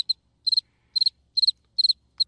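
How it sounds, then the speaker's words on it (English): A cricket chirps in short, evenly spaced trilled pulses, five or six bursts in steady rhythm, clear and close against an otherwise silent background. "I'm getting a cricket sound and putting it in by the time this is done."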